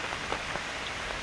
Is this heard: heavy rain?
yes